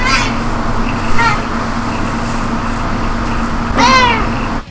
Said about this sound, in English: computer just meowed at me